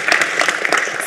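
Applause from an audience at the Action With Africa Challenge final, a brief burst of many hands clapping at close range.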